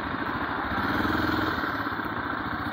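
Motorcycle engine droning steadily at close range on an Easter ride along country roads, a continuous rumbling hum with no separate passes and no talking.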